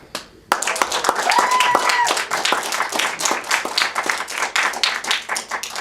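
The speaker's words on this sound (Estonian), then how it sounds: "tehke suur-suur aplaus iseendale" A full-house crowd at an improv comedy show bursts into applause after a short quiet moment, close and loud clapping that continues steadily with some cheering.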